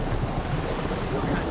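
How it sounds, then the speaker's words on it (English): Steady heavy rain pours in a storm within the video game Witcher 3, a dense continuous wash of noise with a low rumbling undertone. "A storm, damn it."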